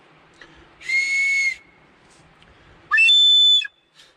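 Two sharp, shrill whistle blasts, each lasting under a second and separated by a short pause, sound close and loud against a quiet outdoor background.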